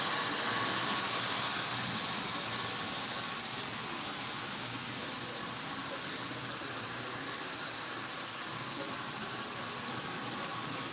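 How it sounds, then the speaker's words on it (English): A model train runs steadily past on its layout, a continuous rolling rumble with a hissing wash over the whole stretch and no speech, holding at an even level throughout. "Kind of running the train as it goes by."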